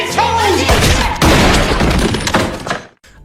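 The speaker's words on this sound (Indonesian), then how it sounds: "Akhirnya, baku tembak singkat pun terjadi." A loud, chaotic burst of gunfire with booming shots and crashing impacts, dense and close for a few seconds before cutting off abruptly.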